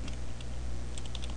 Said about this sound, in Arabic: انا اكتب هنا مثلا